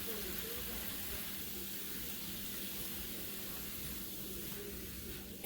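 Shrimp cooking with cabbage in a hot pan sizzle in a steady, even hiss that stays soft and unbroken throughout, with no other sounds on top.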